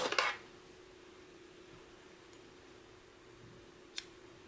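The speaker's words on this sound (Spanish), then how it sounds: "Y cortamos el hilo." Scissors snip through thick wool knitting yarn once at the start, a short close crisp cut, followed by near silence with a faint tick later.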